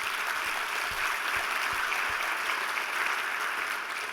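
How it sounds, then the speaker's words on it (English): A convention crowd at a 2019 conference applauds the event staff, a dense and steady round of clapping that holds evenly across the whole stretch, heard from within the audience. "just give a very warm round of applause to all of the Quest staff and the people who have put this together"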